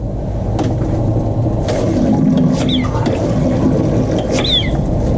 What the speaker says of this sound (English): You want to see the toilet flush.